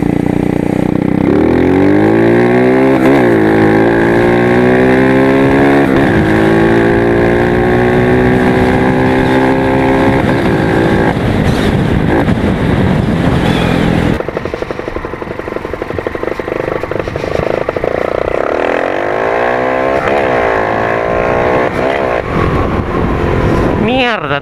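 Yamaha FZ16 190 cc motorcycle fitted with a 30 mm carburetor, riding with its engine rising and falling through repeated revs and gear changes, loud and close, with wind noise and a voice talking over it.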